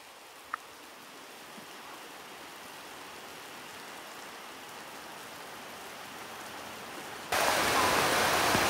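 Heavy rain pours steadily in the Vietnamese countryside, a dense hiss that suddenly swells much louder near the end, with a single sharp tap early on.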